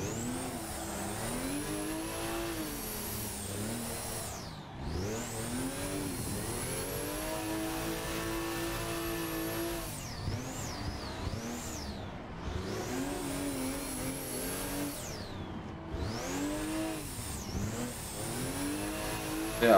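Toyota JZX100 cars drift in the Assetto Corsa racing game, their engines revving hard and continuously, rising and falling in pitch through repeated sweeping bouts of acceleration, limiter bounces and lift-offs over about twenty seconds with no talk.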